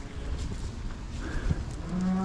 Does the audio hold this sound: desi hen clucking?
no